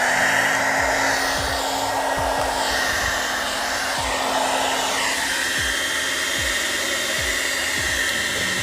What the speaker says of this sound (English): let's use the hairdryer to heat up the glue behind and the adhesive